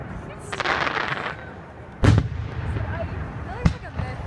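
Fourth of July fireworks at a show in Brian Head, Utah, with crackling sparkle early on, then two sharp booming bursts, one loud near and one smaller later, over a background of crowd murmur.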